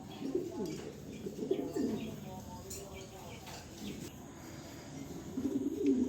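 Pigeons, including red checker birds in a loft collection, coo in low throaty bursts close by, repeating irregularly across the stretch with faint chirps and rustling between calls.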